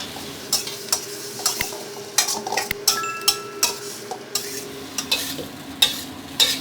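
Thai omelet with holy basil being stir-fried hard in a pan, a steady sizzle broken by repeated sharp clacks of a spatula against the pan, close and loud with no talking.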